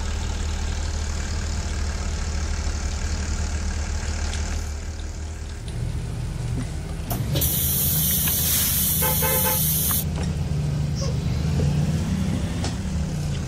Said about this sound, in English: I was revving my engine, then I put it in drive.